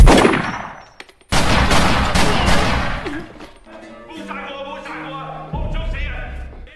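Gunfire from a pistol in a kung fu gangster film scene: a loud, dense burst of rapid shots and impacts, then ringing clangs and a tonal musical score.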